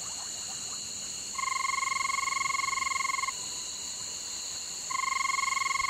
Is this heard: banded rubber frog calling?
yes